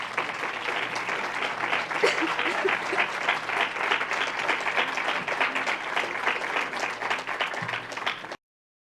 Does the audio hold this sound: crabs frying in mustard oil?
no